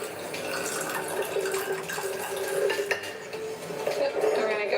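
Sugar and water being stirred together in a container for water kefir, giving a steady scraping, swishing mix with light clinks of a utensil, close and continuous throughout.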